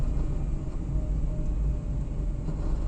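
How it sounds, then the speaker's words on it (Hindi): Road traffic passes beneath the Bhara Kahu flyover in a continuous low, rumbling roar of engines and tyres, loud and steady with no breaks and no voices. "ट्रैफिक इधर से ही जा रही है।"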